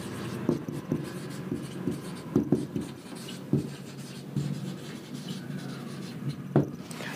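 Chalk or marker scratches and taps across a board during a physics lecture, coming in short irregular strokes at close range with no talking.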